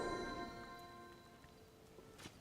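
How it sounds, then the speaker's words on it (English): Rain falling in the video game Zelda: Tears of the Kingdom, a soft, faint patter of drops beneath a fading sustained musical chord, with no talking. "Oh, why is it raining?"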